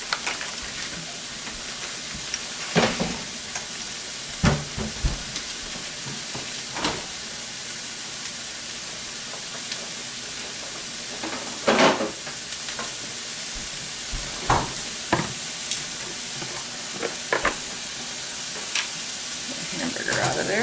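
Hamburger meat fries in a pan with minced onions and garlic, giving a continuous close sizzle broken by intermittent stirring scrapes and clacks.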